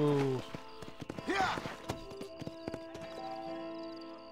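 Horse in the Red Dead Redemption 2 video game: a loud whinny sweeps up early, with clip-clop hoof beats on hard ground and a musical score tone underneath.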